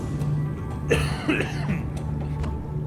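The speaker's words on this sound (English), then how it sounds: "excuse me for the coughing." A man gaming on a headset mic lets out a couple of short, close coughs, with quiet background game sound underneath.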